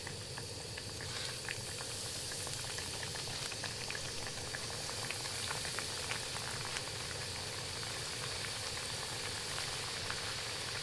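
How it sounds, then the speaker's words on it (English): Tiger trout fillets fry in a pan on a stove set up on the ice, with a steady, dense bubbling crackle of hot oil that holds at an even level throughout, no voices. "so we'll let those guys fry for a few minutes"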